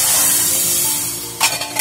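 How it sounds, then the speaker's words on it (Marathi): Spices for dal crackle and hiss as they are tempered in hot oil, a bright, even sizzle that swells into a sharper burst of spattering near the end. "तडका आता देऊया"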